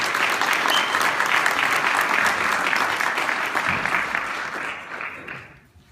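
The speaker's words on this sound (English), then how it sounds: "let's give a nice round of applause to our latest Eagle Scout, Colby McLiberty." Audience applause at a city State of the City program in Derby, Connecticut, honoring a new Eagle Scout: steady dense clapping from a large crowd, sustained and fairly loud, fading out over the final second.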